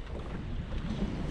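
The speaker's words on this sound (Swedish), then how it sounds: "Det är sjukt mycket vind alltså." Strong wind at a fishing spot on open water, gusting up to around 20 m/s, roaring as steady broadband noise buffeting the microphone with no talk.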